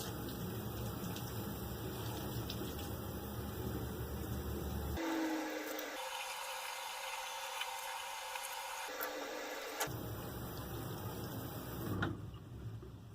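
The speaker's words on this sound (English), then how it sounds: "now I'm going to rinse it out, again at a cool temperature." Water runs steadily while a human hair wig is rinsed at a cool temperature, a continuous hissing flow that shifts tone midway as the stream is interrupted, with no talking.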